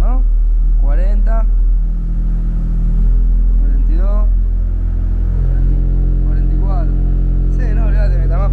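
Low-frequency test tone played through a Sundown subwoofer inside a car, stepping through very low pitches around 30 to 44 Hz. It is a steady, loud, deep hum that runs the whole time, with people talking over it.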